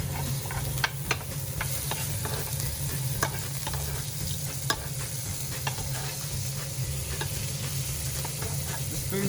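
A steak sizzles steadily in a hot pan while being stirred, with scattered sharp clicks and scrapes over a continuous frying hiss.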